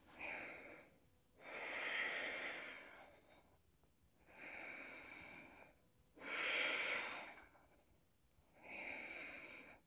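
Slow, deep breathing while holding a plank pose in a stretching yoga session, with three audible inhale-exhale cycles, close and breathy with a slight nasal rasp, each breath rising and fading with quiet pauses between.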